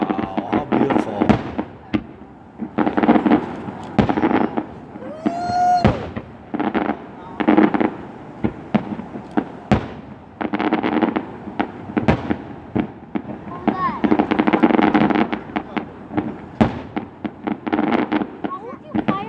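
Fireworks bursting over a Fourth of July 2017 celebration seen from a back deck, a long run of sharp booms and crackles, some close and loud, others distant, with people talking and exclaiming throughout.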